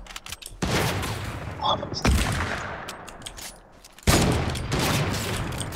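Bursts of sniper and rifle gunfire in Fortnite, loud close shots in two dense clusters separated by a brief lull, with game mechanism clatter between them.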